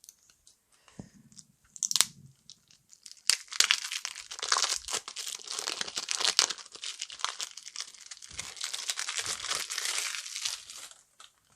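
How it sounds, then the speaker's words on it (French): Crinkling and tearing as a sealed plastic-wrapped pack of Pandemic Legacy Season 0 player cards is opened, with a sharp rip followed by a long, close, busy stretch of crackling wrapper, no speech. "Ici, on a un autre paquet. Alors, celui-là, je pense qu'on va pouvoir l'ouvrir."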